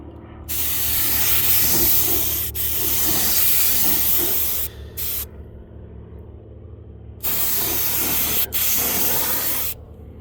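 Spray paint hissing onto a Humvee HMMWV rear AC evaporator box, long close bursts of steady spray separated by short silent pauses and brief taps.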